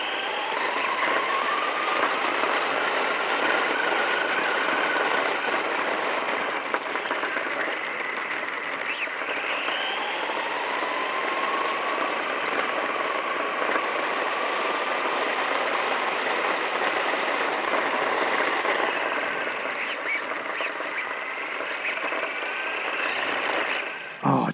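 A brushless motor in a Traxxas Stampede VXL 2WD 1:10 scale RC truck whines steadily and loudly throughout, its pitch sweeping up and down as the throttle is worked, with no talking.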